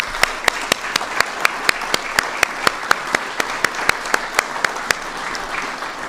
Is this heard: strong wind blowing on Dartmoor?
no